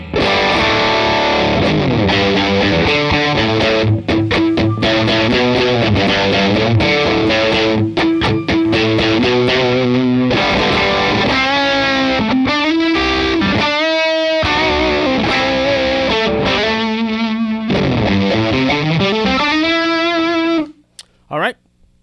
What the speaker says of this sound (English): the more gain I give it, it just gets super saturated.